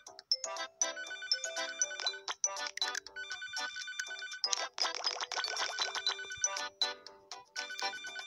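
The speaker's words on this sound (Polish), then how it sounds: "Już idę odebrać telefon." A ringtone chimes in the Papa's Bakeria To Go cooking game, a bright, repeating electronic melody of bell-like tones that rings steadily for several seconds with no talking over it.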